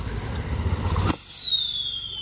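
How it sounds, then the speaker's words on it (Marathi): Fireworks go off outdoors: a rumbling burst of noise gives way to a sharp, loud whistle that slides slowly downward like a rocket, close to the listener. "तर गाईज या प्रकारे आम्ही फटाके फोडून झालंय."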